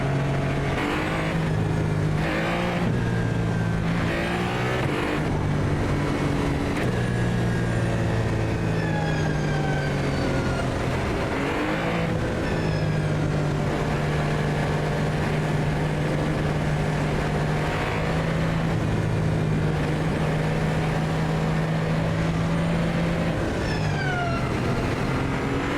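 Ferrari 499p race car engines scream together at a standing race start in iRacing, several high-pitched motors revving and climbing through gears, loud and continuous, some cars close and others trailing behind, with no talk.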